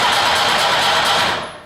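A Trabant two-cylinder engine runs with a loud, rough, buzzing broadband roar, close by, which fades away at the end of the short burst.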